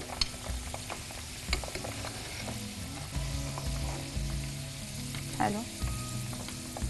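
Food fries in hot oil with a steady close sizzle and crackle, broken by occasional clinks and stirring knocks; a voice briefly speaks a word.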